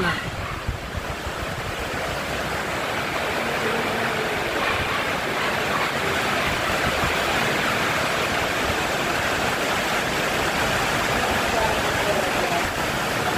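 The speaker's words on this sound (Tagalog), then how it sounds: "Lakas ng ulan mga kalingap po, grabe." A steady, dense roar of heavy rain pouring down without letup, loud and close, with no voices.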